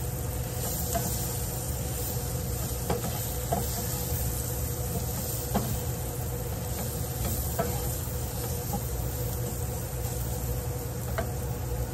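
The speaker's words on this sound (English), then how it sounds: "I still have little bits bubbling and stuff. And all I'm trying to do at this point is cook some of the flour taste out." Flour roux bubbling and sizzling steadily in a pan, a continuous close crackle with small pops scattered throughout, no voices.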